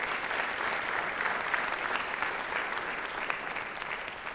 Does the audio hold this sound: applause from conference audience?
yes